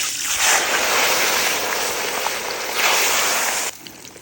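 Fish frying in hot oil, a loud dense sizzle that swells and holds for several seconds close by, then cuts off sharply near the end.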